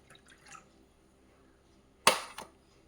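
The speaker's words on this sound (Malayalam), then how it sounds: "ഇനി നമുക്ക് പാൽ ഒഴിക്കാം." Milk poured into a cooking pan while making watermelon halwa arrives as one short, close splash with a quick trailing spatter after a mostly quiet stretch.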